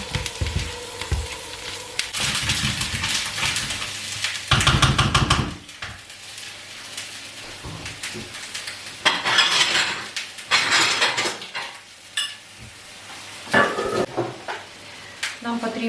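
Onion and carrot frying in a pan, with sizzling under clattering utensil stirring and scraping, loud bursts of stirring and metal knocks coming in uneven waves close by.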